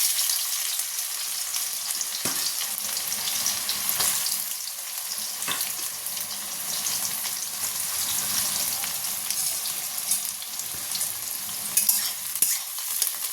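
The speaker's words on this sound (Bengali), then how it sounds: "চলো পেঁয়াজটাকে লাল লাল করে ভেজে নিই তারপরে মশলা দেবো" Steady sizzling and crackling of onions frying in a hot pan with tempered spices, with occasional stirring scrapes, close and continuous, no talking.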